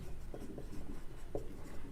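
Soft chalk or pen strokes scratch across a board during a physics lesson, a few short faint taps and scrapes in a quiet room.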